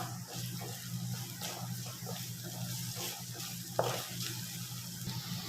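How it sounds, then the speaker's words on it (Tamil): Low steady sizzle of onion and green chili sautéing in oil, with occasional soft stirring scrapes and a brief clink. "நறுக்கின வெங்காயம் அதோட ஒரு பச்சை மிளகாய் நல்லா வதக்கிக்கணும்."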